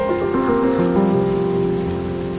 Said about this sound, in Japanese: このまま雨が降り続けたら大変なことになっちゃうわ